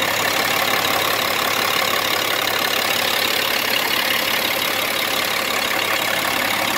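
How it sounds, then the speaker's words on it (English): A 1999 Kenworth T800 truck engine idles steadily after a long warm-up, a constant broadband rumble with an even low drone, close by and unbroken with no voices. "The engine sounds good."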